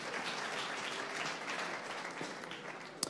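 Audience applause after a startup pitch at the Marathon Pitch event, a steady broadband patter of many hands held for about three seconds at moderate distance, with no voices over it.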